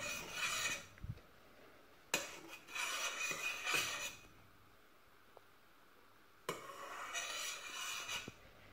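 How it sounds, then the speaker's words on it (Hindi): Milk coffee with sugar is stirred in a pot, giving scraping, rasping spoon strokes in three bursts separated by short quiet gaps, with a few faint clinks. "मैं इसे एक स्टिर देती हूँ ताकि ये मिक्स हो जाए।"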